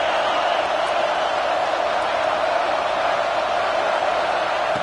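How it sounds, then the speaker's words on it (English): Dense, steady roar of a football stadium crowd cheering before a Notre Dame vs Arkansas game, a continuous wall of massed voices at even loudness throughout. "It's early, but this crowd is fired up. Listen to this noise here."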